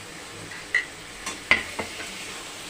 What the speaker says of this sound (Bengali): এবারে আমি এখানে লাউ আর আলু ভাজাটা দিয়ে দিব।